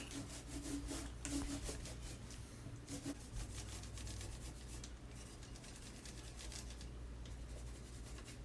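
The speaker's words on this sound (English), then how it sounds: "I'm giving it a good rub down" Rubbing down a wooden dresser by hand, a soft continuous scraping and rubbing texture with repeated strokes, faint and close, no talk.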